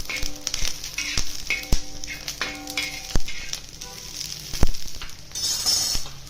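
Green chillies and garlic sizzling and frying in a pan for a village-style drumstick masala, a continuous crackling hiss broken by clinks and scrapes of stirring, with no voices.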